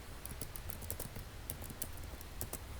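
Quick, light keystrokes clatter on a computer keyboard during a PC networking exercise, coming in irregular bursts of clicks at close range with no talking.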